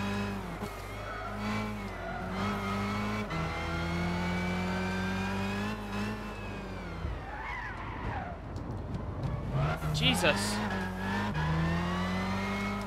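A race car engine drones and shifts pitch in Gran Turismo 6, with tyres squealing and a clattering jump and landing midway before the engine climbs again; one person briefly exclaims.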